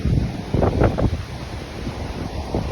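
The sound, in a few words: strong wind before a possible tornado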